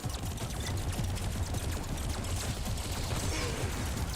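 Continuous rapid turret gunfire in the Skylanders Swap Force video game, a dense, steady crackle of shots filling the whole stretch without pause or talk.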